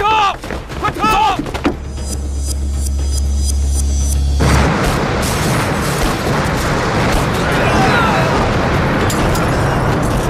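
A film explosion at Yongxing wharf in a kung fu action movie, with sharp booms and bursts, then a sustained loud roaring rumble that fills the rest of the scene.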